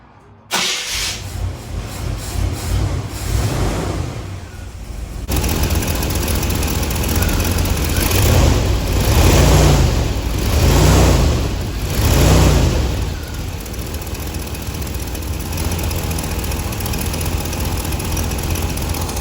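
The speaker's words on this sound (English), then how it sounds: "Let me start the car and show you guys right now." A Chevy 350 V8 in a Corvette C3 with a bent, wobbling crankshaft pulley cranks and fires up, then settles into a loud, steady rumbling idle with several rhythmic surges in revs.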